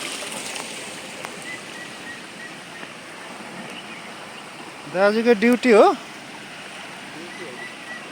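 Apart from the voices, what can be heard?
water flowing at dam intake tank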